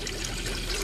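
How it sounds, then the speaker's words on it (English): Sugar water pours steadily into a glass jar, a continuous close splashing trickle that fills the short moment on its own. "Now I'm going to pour the sugar water into this jar"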